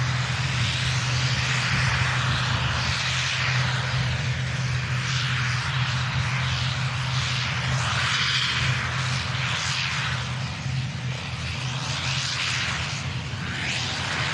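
A Boeing 747 jet roars on the runway at Manchester Airport, a loud broad rumble and hiss of engines that holds strong for the whole stretch and shifts slightly as it passes, recorded outdoors with no talk.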